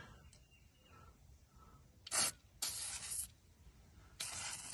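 Three or four loud bursts of penetrating oil aerosol spray on a rusted, seized brake bleeder of a 1983 Ford Ranger 4x4, hissing in short blasts with quiet handling noises between them.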